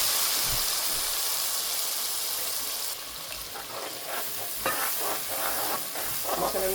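Masala spices sizzling in hot oil with ginger and garlic for a dry fish curry, a steady loud hiss with stirring clatter and spatter building toward the end, no talking.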